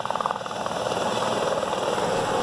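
Helicopter flying close by on a medical transport flight, a loud steady rotor and engine roar with rhythmic blade chop at the start, no talk.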